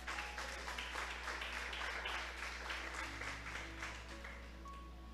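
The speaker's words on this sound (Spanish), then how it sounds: "¿Cuántos le dan un aplauso al Señor, hermano?" A church congregation applauds during a Sunday morning service, a steady wash of many hands clapping together. It is faint and distant, set against a low electrical hum.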